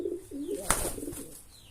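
A pet pigeon, a pedigree racing dove kept by a bird owner, gives a soft low cooing phrase close by, with a brief sharp click midway and quiet room noise behind.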